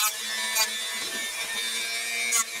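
A part for an Apple TV DC power conversion is cut and trimmed with a tool, giving a loud, continuous abrasive rasping up close, with brief sharp bursts at the start and near the end.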